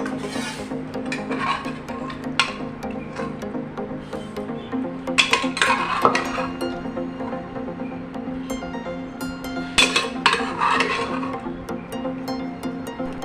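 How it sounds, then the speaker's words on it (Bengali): Boiled green jackfruit being moved onto a metal plate, with soft scraping and several scattered clinks of utensils against dishes over a low steady background hum, no voices. "এবার আমি এই থালাটার মধ্যে তুলে নেব।"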